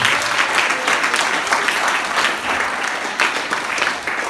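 Audience applause for students at a school event, a dense crowd of hands clapping loudly and steadily for a few seconds with slight swells in intensity.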